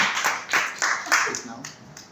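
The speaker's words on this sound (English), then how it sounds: "Please give a round of applause for Dear Mark." Small club meeting audience clapping for a member, a few sharp claps in quick succession that thin out over about two seconds, with voices mixed in.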